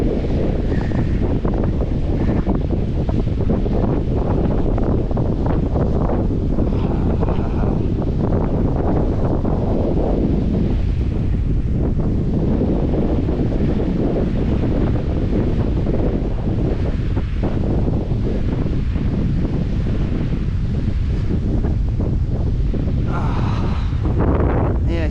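Strong wind buffeting the microphone on a beach during a morning hike, a loud continuous roar with surf washing faintly underneath for the whole stretch.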